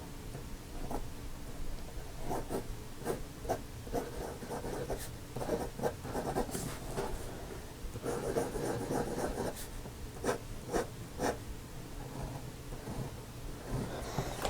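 Vintage Hero fountain pen nib writing across paper, a steady close scratchy rustle with short strokes and pauses repeating throughout, alone with no voices.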